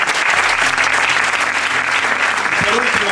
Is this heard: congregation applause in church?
yes